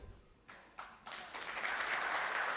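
Audience applause at a talk, starting as a few scattered claps that quickly swell into steady, full clapping from a crowd, with no speech over it.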